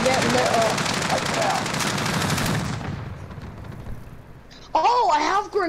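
Rapid machine gun fire in the Call of Duty: Modern Warfare video game, loud dense bursts for a few seconds that fade into quieter background noise, followed by a player's voice talking.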